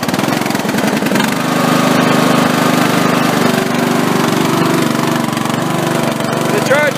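A Craftsman lawn tractor engine cranks and catches, then settles into a steady loud running chug with the hood open, heard close with a voice talking over it.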